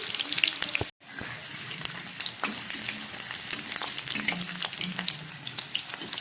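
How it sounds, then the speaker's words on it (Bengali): Potatoes fry in hot oil seasoned with cinnamon, cardamom and cloves, making a constant close sizzle with scattered crackles and stirring scrapes after a brief silent gap near the start. "আমি এই তেলের মধ্যে আমি এবারে আলুগুলো ভেজে নেব"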